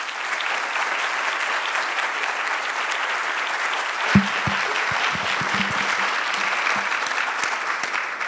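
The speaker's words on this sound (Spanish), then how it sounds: "les pido un fuerte aplauso agradecido por la doctora Lamas" Steady, full applause from a lecture audience welcoming Dr. Marta Lamas at a 2017 university chair event in Jalisco, with a few low thumps partway through, sustained at an even level to the end.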